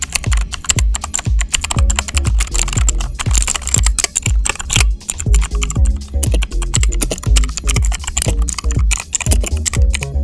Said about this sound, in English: the Hydra 10 also boasts blue switches, offering a tactile experience with that satisfying click